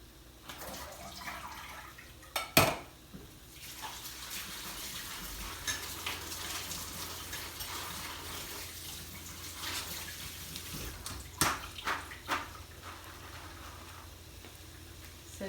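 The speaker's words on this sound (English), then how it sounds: "So just drain it and give them a little rinse and then add them in." Canned black beans being drained and rinsed in a kitchen: a quiet, steady stream of running water with a few sharp clinks of the can and dishes, no talking.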